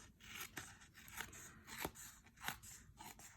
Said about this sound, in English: I'm going to cut just with the scissors